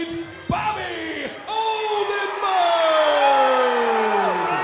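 A packed cage-fighting crowd at an amateur MMA event at Monona Terrace roars and whoops loudly, rising swells of yelling and cheering that grow fuller and more sustained toward the end.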